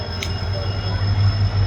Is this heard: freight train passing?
yes